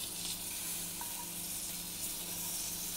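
A seared scallop sizzles steadily in a hot pan after being flipped, a continuous close frying hiss with no voices.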